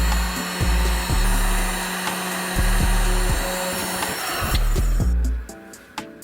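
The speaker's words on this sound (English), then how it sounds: "Next, we're going to hit the tubing with a heat gun." A heat gun blows with a steady, loud, broad rushing whoosh while heating plastic tubing, accompanied by faint clicks and knocks, before cutting off near the end.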